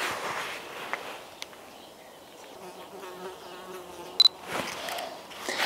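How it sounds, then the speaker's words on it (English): A bee buzzes around garden flowers, a soft, wavering drone drifting nearer and farther, broken by a few sharp clicks. "that bee will come back and land on this flower"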